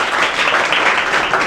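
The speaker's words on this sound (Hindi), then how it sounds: "ताली बजाएंगे इसके लिए।" Audience applause rings out in a classroom or school event, a steady, dense clapping that fills the short stretch evenly at moderate loudness with no voices over it.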